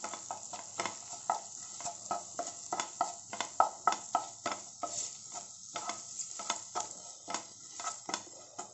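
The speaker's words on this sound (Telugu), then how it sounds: "బాగా కలుపుకోవాలి" A mashed potato mixture sizzles in a pan while a spoon stirs it, scraping and tapping in an irregular rhythm of many quick strokes, close and fairly quiet.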